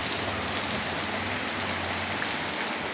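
Light morning rain falls steadily, an even, close patter of drops on surfaces that holds at a soft level throughout with no voices.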